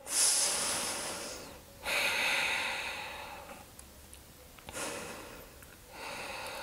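Slow, deep breaths during a yoga stretch, heard as long airy exhales and inhales in a steady rhythm, close and soft, with pauses between them and no talking.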